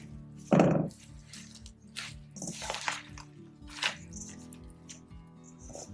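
Wet moss being squished by hand while making a moss pole, with soft squelching presses and drips, one louder wet squish early followed by quieter intermittent squishes, close up.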